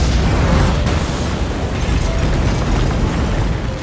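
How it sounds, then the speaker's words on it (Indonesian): A car bomb blast in an underground parking basement, staged as a film effect: a loud, dense explosion with a sharp burst near the start, then a sustained roaring rumble of debris and reverberation that stays heavy and steady throughout, with no voices. "Miguel yang sudah merencanakan semuanya pun langsung meledakkan sebuah mobil di basement"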